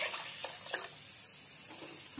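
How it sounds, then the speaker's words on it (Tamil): Dissolved tamarind water is poured into a clay pot of fish curry, making a few soft, close splashes and trickles over a quiet background. "நம்ம இப்போ கரைச்சி எடுத்து புளி தண்ணியில் ஊற்றிக்கலாம்."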